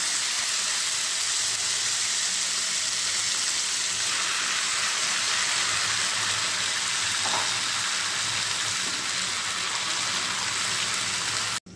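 Chela fish frying in mustard oil with nigella seeds in a pan, a loud, steady, close crackling sizzle that holds evenly throughout before cutting off abruptly, with no talk.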